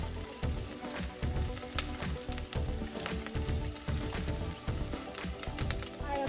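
Onions fry in a pan with a steady, dense sizzle that runs unbroken from start to finish at moderate loudness, close up.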